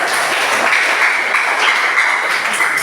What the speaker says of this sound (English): Give applause to Milo.